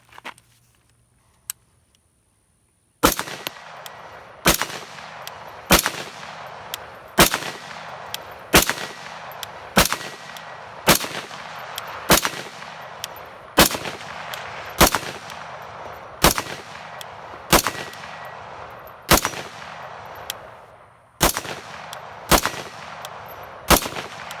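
A PWS MK116 MOD2 rifle in 7.62x39 fires about twenty loud, sharp shots at a steady semi-automatic pace at a steel plate, each crack ringing briefly, after a short quiet start with a couple of small clicks.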